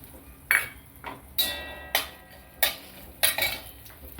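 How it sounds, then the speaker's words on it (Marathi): Grated fresh coconut being sautéed in a pan for a Maharashtrian masvadi: a spatula scrapes and taps the pan in irregular bursts, close and moderately loud, with no talk. "मी ओलं खोबरं घेतलंय आणि आता आपण ते थोडंसं परतून घेऊ"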